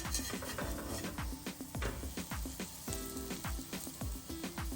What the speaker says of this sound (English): I take my fish spatula and I get under the fritter and I flip it and get that lovely golden color